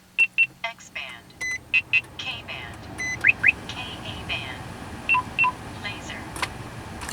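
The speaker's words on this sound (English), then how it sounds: "Okay, now the radar detector is on," A car radar detector beeps after being plugged in, giving a series of short, sharp electronic tones and chirps in quick pairs, close up, with people talking between them.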